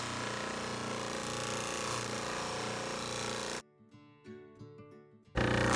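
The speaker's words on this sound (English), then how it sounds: "These lenses have some minor scratches in them, so we're going to try to take them out with the buffing wheel." A spiral buffing wheel polishes minor scratches out of lenses, a loud steady grinding whir that runs for several seconds, drops away abruptly to near quiet with faint mechanical sounds, then starts up loud again.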